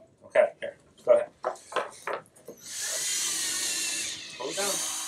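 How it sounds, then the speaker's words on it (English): A few short spoken exchanges, then a power drill bores into a wood block, whirring steadily for a couple of seconds, pausing briefly, and starting again, close by. "you want to drill the first hole?"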